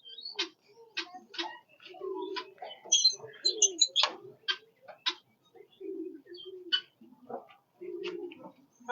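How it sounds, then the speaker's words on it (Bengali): Pigeons in a small backyard coop, including Pakistani breeds, coo in soft repeated phrases, mixed with occasional sharper chirps from other birds, fairly close and quiet in an otherwise calm space. "আমার কিছু কবুতর আছে।"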